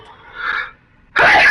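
Single sneeze from a character in Horizon Forbidden West, loud and close: a soft drawn-in breath rising to the explosive burst at the end, with no talk over it.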